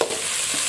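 Tomatoes, onions, green chilies and mustard seeds fry for a bitter gourd curry, a brief, close hiss of sizzling oil with a soft stir.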